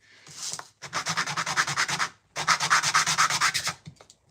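Hand sanding a skateboard in a workshop: close, rhythmic back-and-forth abrasive strokes in two quick runs separated by a brief pause.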